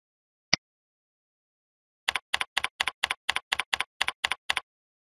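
Rapid typing on a computer keyboard: a single isolated keystroke, a pause, then a quick run of about ten evenly spaced, crisp key clicks, close and clean with no talking.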